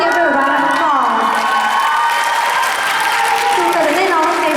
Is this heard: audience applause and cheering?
yes